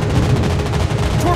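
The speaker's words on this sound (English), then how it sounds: "Anti-aircraft gun on full alert." Continuous rattling anti-aircraft gunfire from a warship in World of Warships Blitz, a dense, loud, steady barrage with no pauses across the short stretch.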